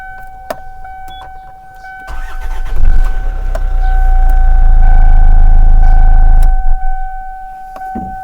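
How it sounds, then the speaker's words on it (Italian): A diesel car engine, jump-started by a batteryless capacitor jump starter, cranks and catches around two seconds in, then runs with a heavy low rumble for a few seconds before cutting out, with a steady electronic tone throughout. "è riuscito perfettamente ad avviare il motore utilizzando i condensatori al suo interno"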